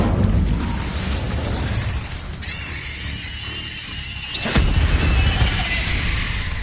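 A fire spell bursts out in a wizarding video game with a sweeping whoosh and roaring crackle, followed by another sharp flare of flame amid loud, continuous game effects.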